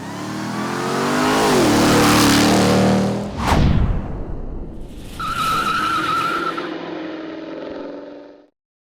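A Ram TRX 4x4 pickup with a supercharged Hellcat Hemi V8 revs hard and accelerates, its engine note rising and falling, then tires skid and squeal loudly before the engine roars on and cuts off abruptly.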